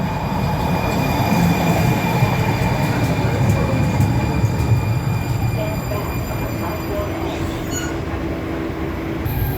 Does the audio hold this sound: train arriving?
yes